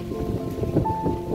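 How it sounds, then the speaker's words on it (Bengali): A strong storm roars around a home kitchen, with a dense low rumble of wind and rain buffeting steadily and loudly throughout, and no clear voices. "আর এদিকে খুব জোরে ঝড় উঠেছে"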